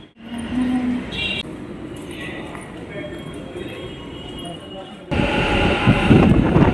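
A metro train rumbles and screeches along the tracks, growing louder near the end, while voices talk in the background.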